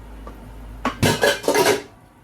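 A metal lid set onto a cooking pot while making a Filipino pork giniling omelette, a quick series of close clattering clanks and rattles settling over about a second.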